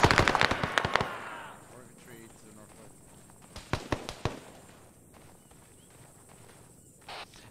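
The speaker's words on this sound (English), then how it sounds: "Did I hear more gunshots north?" Gunfire in the Vietnam-era combat game Arma 3 SOG Prairie Fire: a rapid burst of sharp shots at the start, then scattered distant cracks and a few more separate reports.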